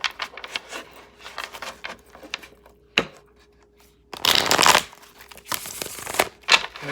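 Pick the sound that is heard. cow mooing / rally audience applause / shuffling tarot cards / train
shuffling tarot cards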